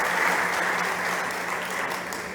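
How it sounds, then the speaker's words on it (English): Audience applause at a startup competition stage, a dense continuous patter of many hands that holds steady and eases slightly toward the end. "please, big applause for my good friend Angel."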